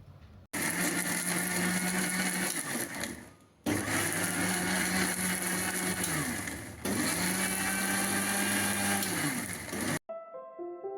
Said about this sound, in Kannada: ಇಷ್ಟು ಫ್ರೈ ಆದರೆ ಸಾಕು ನೈಸಾಗಿ ರುಬ್ಬಿಟ್ಕೋಬೇಕು